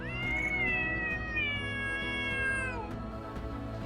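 A cat meows in a long, drawn-out wail lasting nearly three seconds, close and loud over a steady background hum.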